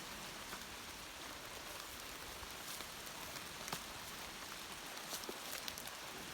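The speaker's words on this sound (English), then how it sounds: "it just started to rain a lot" Steady, dense torrential rainfall patters all around at an even level on a mountain path, with occasional louder drops standing out, and no voices.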